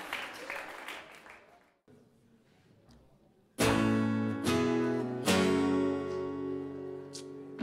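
An audience at a school performance at Lycée Professionnel Lomet in Agen gives a short round of applause that fades out. After a brief pause, loud sustained musical chords begin.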